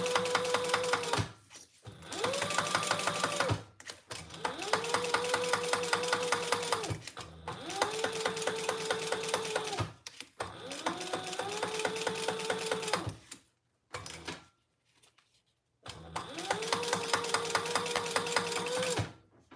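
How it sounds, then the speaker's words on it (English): Sewing machine top stitching a trifold wallet, running in several long bursts of rapid needle chatter with a rising motor whine, stopping briefly between runs, loud and close with no voice. "All right, let's top stitch this."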